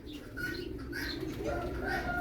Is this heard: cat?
no